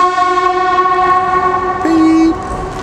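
Steady rumble of a train rolling along the rails near Belgrave, Melbourne, with strong sustained tonal hum, and a brief brighter tone shifting in near the end.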